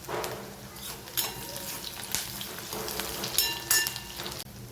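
Sliced capsicum sizzling and crackling in hot oil in a pan while spicy rice is being made, a steady close frying hiss with occasional pops and stirring scrapes.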